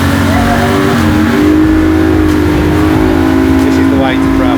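A boat motor drones loud and close on the ten-minute crossing to Gili Air, a steady engine tone with slight pitch shifts, while people talk over it.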